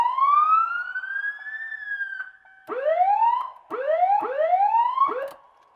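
Emergency siren on a 2021 Campulance vehicle, loud and close, starting with one long rising wail and then switching to a series of quick, repeated yelping sweeps before cutting off.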